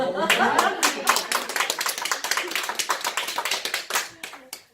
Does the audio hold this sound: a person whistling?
no